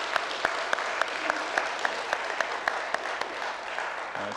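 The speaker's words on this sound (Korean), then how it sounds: "하나님 앞에 감사의 박수를 올려드리겠습니다" A church congregation at a Sunday worship service claps together in a steady wash of applause, with a few sharper claps standing out at a regular rhythm.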